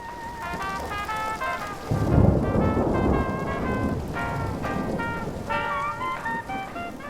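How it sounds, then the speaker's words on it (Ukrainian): Film opening with a thunderstorm: steady rain and rumbling thunder swell after a quiet start, with bright tonal musical score layered on top throughout, loud and continuous. "Фільм починається з бурі"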